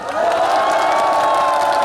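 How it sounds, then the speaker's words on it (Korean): Large outdoor concert crowd at a televised music show in a city plaza, cheering and clapping loudly and continuously, a dense roar of shouts and applause throughout. "자, 함성과 함께 박수!"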